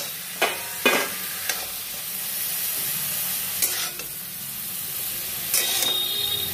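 Potatoes fry with spices in hot oil in a pan, with a steady sizzle under repeated scraping stirs of a spoon against the pan, several sharp strokes spread through the moment.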